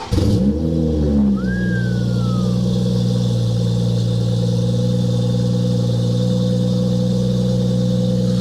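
A Toyota Supra engine at a car meet blips in a sharp rev, then settles into a loud, steady idle with a brief whine sweeping down over the rumble.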